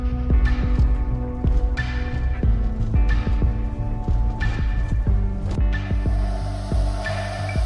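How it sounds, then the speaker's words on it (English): Rhythmic heartbeat-like throbbing signal from a tracking receiver communicating with an animal collar, a steady repeating double pulse over a constant hum, close and fairly loud with no talk. "Once the machine communicates with the collar, this sound will change to a kind of a heartbeat."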